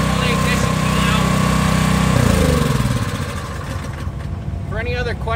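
A Toro snow blower engine runs loud and close with a steady throbbing drone that eases slightly, while a person speaks over it toward the end.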